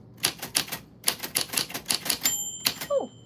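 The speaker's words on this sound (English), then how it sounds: "your name fell on like the typewriter bell" A typewriter clacks out a quick, uneven burst of keystrokes, then its bell rings a clear ding near the end, close and unaccompanied by voices.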